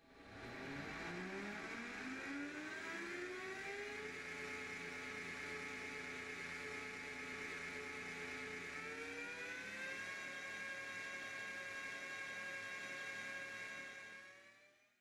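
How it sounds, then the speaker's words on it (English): Electric motor spinning on a test rig between a drive and a brake, with a torque transducer fitted inline. A steady, loud whine rises in pitch over the first few seconds, levels off, then steps up once more and holds to the end. "In this test rig used to demonstrate an electric motor test, we are using a torque transducer, which is placed between the drive and the brake"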